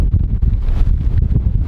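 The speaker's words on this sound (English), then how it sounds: "the wind is so strong" Strong wind buffets the microphone during a snowstorm, a steady low roar with gusty surges that continue unbroken throughout, loud and close.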